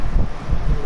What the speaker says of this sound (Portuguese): Tá batendo um vento